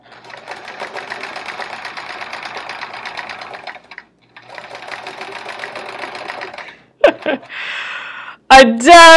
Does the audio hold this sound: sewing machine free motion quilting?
yes